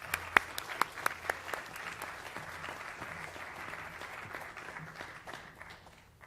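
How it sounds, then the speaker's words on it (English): An audience at a university symposium panel applauds, with a few sharp claps at the start followed by a steady wash of clapping that fades out toward the end. "If we can give one more round of applause."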